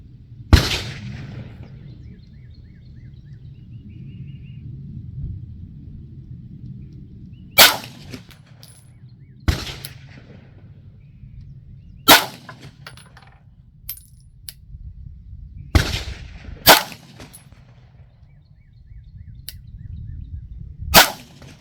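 A Beretta M9A4 pistol fires IMI 158-grain rounds at a shooting range, about six loud, sharp single shots spaced irregularly several seconds apart, with a low background rumble between them.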